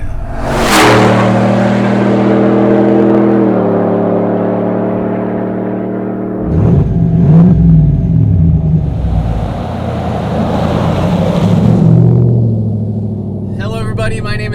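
Supercharged 2020 Harley-Davidson GMC Sierra Goliath 700 pickup by Hennessey accelerating hard on a test track, its engine rising in a loud sustained roar with a gear shift midway, close and continuous.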